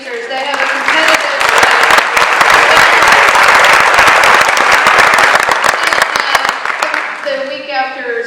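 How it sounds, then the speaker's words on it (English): An audience at a senior honor ceremony bursts into loud, sustained applause for the speakers, dense clapping that swells, holds steady and then tapers off. "Please give another round of applause for our speakers."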